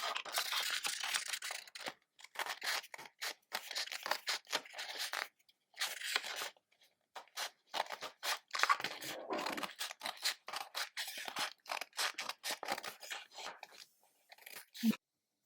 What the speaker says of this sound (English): trim the edges a little bit to neaten it up if it's a bit rough